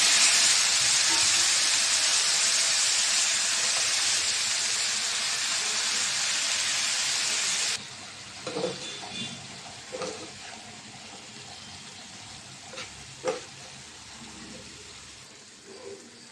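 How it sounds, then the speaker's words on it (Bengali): Bitter gourd fries with onion, green chili and garlic paste in a pan, a loud steady sizzle that suddenly drops to a quieter crackle, with occasional stirring clatter afterward. "পেঁয়াজ কাঁচামরিচ দিয়ে দিলাম, একটু রসুন বাটা দিয়ে দিয়েছি। এটা করলা ভাজি করব।"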